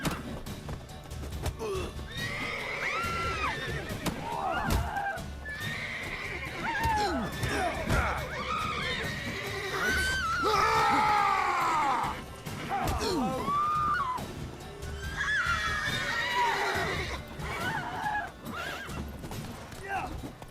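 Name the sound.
horse neighing in video game The Witcher 3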